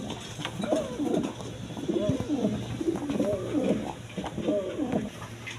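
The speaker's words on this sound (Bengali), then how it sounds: "এখানে এক পেয়ার শার্টিং কবুতর আছে" A pair of white-and-black shirting pigeons cooing at a pigeon market stall, repeated rhythmic rolling coos close by over a steady low background hum, with no talk.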